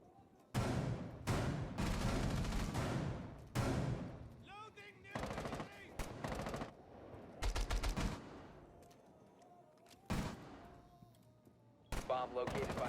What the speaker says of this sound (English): nice shot from Valkyrie.